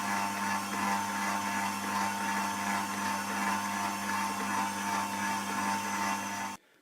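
A mixer kneads bread dough in a home brewing and baking setting, giving a steady, loud motor whir with constant tone that runs almost seven seconds before cutting off abruptly at the end.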